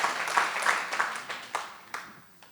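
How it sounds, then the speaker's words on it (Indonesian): Scattered applause in a church gathering at an education workshop, a handful of separate sharp claps spread unevenly across a short moment, fairly faint. "Tepuk tangan untuk Allah kita yang dahsyat."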